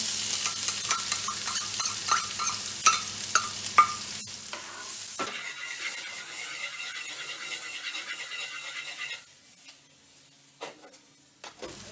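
An onion fries in hot oil with a bright sizzle while a spoon stirs and scrapes rhythmically, close up; the stirring eases and the sizzle thins toward the end.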